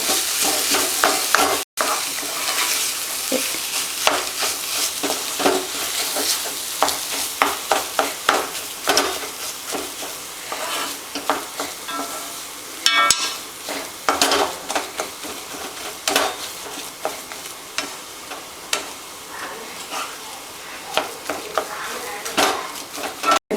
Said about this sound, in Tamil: அந்த மசிச்சு வச்சுருக்கிற உருளைக்கிழங்கை அதில் போட்டுடலாம். நல்லா கலந்து விட்டுக்கோங்க.